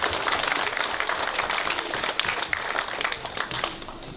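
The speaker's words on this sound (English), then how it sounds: "So a big round of applause for these two," Guests at a banquet for kart racing champions applaud in a thick, roomy burst of clapping that stays strong, with sharp individual claps, then eases slightly toward the end.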